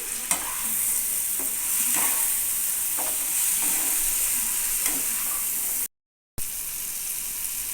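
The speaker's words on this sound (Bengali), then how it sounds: "এবার পটলের সঙ্গে মশলাটাকে অল্প একটু সময় কষে নিতে হবে" Pointed gourd (potol) is stirred with spices in a hot pan for an onion curry, a continuous loud sizzle with repeated scraping stirs at a steady pace, cut by a brief silent gap near the end.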